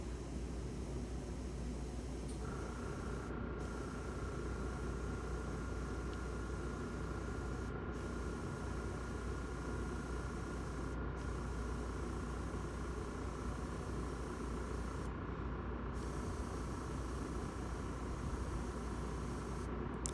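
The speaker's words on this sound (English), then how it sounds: "spraying some blue over those white highlights is really going to help a lot to pop it out." Steady airbrush hiss runs continuously for the whole stretch, a constant spray of air and blue paint with brief breaks, fairly close and even in level.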